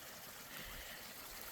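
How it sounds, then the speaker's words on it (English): Faint trickle of a small stream by a little miniature waterfall on a forest trail in Mount Rainier National Park, a steady soft burble with no voices. "I hear water."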